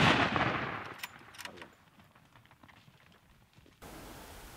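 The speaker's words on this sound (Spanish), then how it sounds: "confiamos en nuestro nuevo rifle Sauer 404 para realizar un gran disparo" A single loud, sharp shot from a Sauer 404 hunting rifle up close, its boom decaying into a rolling echo across open mountain ground, followed by faint rustling and a burst of hiss.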